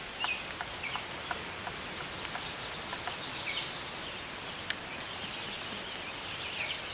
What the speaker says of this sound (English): I'm not sure if you can hear that, but I was right about rain.